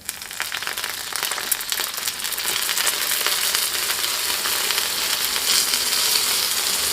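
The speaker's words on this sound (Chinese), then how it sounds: "盖上1个高一点的盖子，烙着1分钟左右，面饼的底部定型，我们给它浇入少许的清水" A flatbread cooks in a covered pan as a little water is poured in, setting off a loud, dense hiss and crackle that grows and holds steady, close up and without talk.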